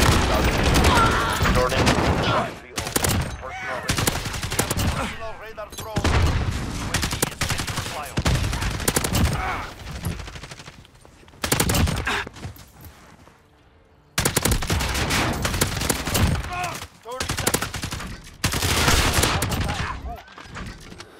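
Gunfire in the Modern Warfare video game, dense bursts of automatic fire and shots in repeated loud stretches with short gaps, alongside a voice speaking.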